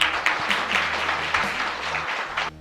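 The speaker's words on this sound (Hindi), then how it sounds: "तालियां" Audience applause at an Ekal Shri Hari Ramayana competition event, a steady patter of clapping for about two and a half seconds that cuts off near the end, with a low sustained tone underneath.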